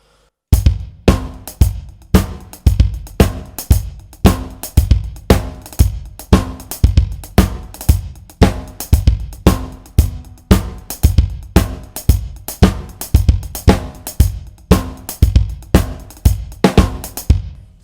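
A drum kit plays a steady groove alone, with punchy kick drum hits on 1 and E and sharp snare and cymbal strikes repeating in a tight, even pattern.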